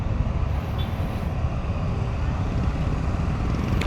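Road traffic rumbles steadily from a motorcycle at night, a continuous loud low roar of engine and wind noise with no distinct voices.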